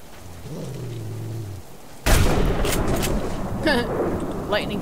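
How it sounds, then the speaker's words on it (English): A sudden loud crack of thunder from a lightning strike in the survival video game Subsistence bursts in and rumbles on, with rain-like noise behind it. Before the strike a faint low tonal drone and some breathy vocal sounds are heard. "Lightning struck just as I was getting after him."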